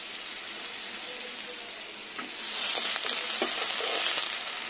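Chopped onions hit hot oil as the base for a Bengali fish-head and mung dal muri ghonto, giving a steady close sizzle that swells louder and busier partway through, with faint stirring ticks and no talk.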